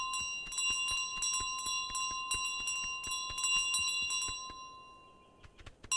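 Bright bells in Untitled Goose Game ring in quick repeated strikes, loud and steady, then fade to a few scattered tings near the end.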